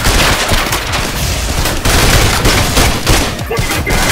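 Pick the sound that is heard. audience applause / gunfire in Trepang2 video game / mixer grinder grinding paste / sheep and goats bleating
gunfire in Trepang2 video game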